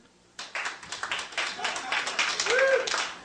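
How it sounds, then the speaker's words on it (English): A comedy club audience at a live stand-up show starts clapping after a brief pause, the applause swelling quickly and staying fairly close, with a whoop or cheer rising near the end. "Can I get some round of applause for all the straight people here?"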